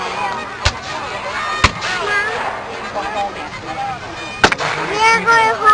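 Civil War reenactment cannons fire as a few sharp, booming reports spaced across a busy outdoor event, with people talking and milling nearby throughout.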